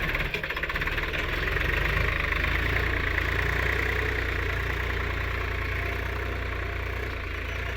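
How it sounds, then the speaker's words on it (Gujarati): A tractor engine runs steadily nearby, a constant low, throbbing drone with a faint knocking character and no talk over it. "કેવું હેડે છે ટ્રેક્ટર."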